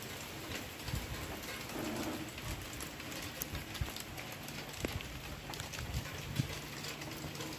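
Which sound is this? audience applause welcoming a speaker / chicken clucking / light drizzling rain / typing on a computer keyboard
light drizzling rain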